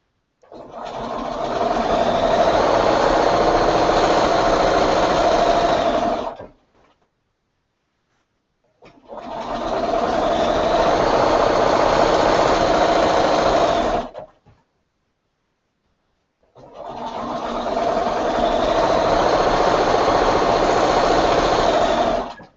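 A sewing machine stitches a quilt square in three long, steady bursts of rapid mechanical whirring, each lasting about six seconds and separated by brief near-silent pauses.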